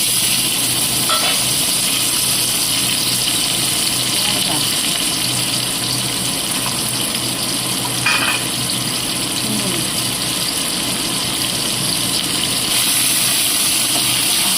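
Chopped onion frying in white oil for egg chowmein, a loud, continuous hiss and sizzle with occasional stirring scrapes, steady throughout.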